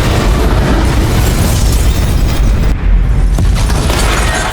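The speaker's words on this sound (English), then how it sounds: "escapes just as the explosion erupts." A loud, roaring explosion of a building in a Black Widow animated story fills the air with dense rumbling and crackling debris, briefly dipping before surging again.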